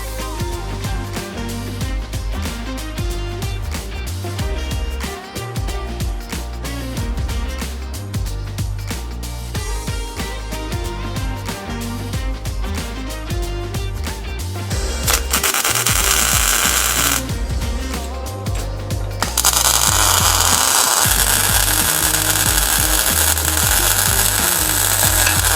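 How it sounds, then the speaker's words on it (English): Arc Droid plasma cutter slicing metal, a loud, steady mechanical whir and buzz that grows harsher and more hissing partway through as the cut bites in, continuing alone without talk. "now it's time to fire up the arc droid"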